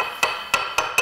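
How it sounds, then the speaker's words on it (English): A sharp mosaic hammer strikes stone or glass tesserae on a hardie, four crisp, close, evenly spaced cutting taps with bright ringing edges and no talk. "he cuts with his hammer, which is very impressive."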